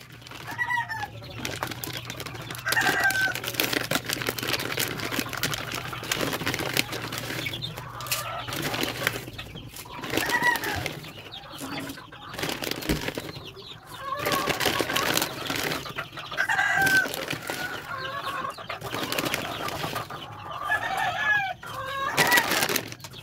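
Backyard chickens cluck steadily, with a rooster crowing several times, some wing flapping and scattered bird calls, all moderately near, with no talking.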